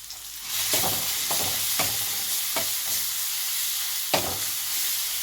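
Ground masala paste frying in a pan, a steady close sizzle broken by several scraping stir strokes at irregular intervals, no talk, for a Tamil raw banana poriyal.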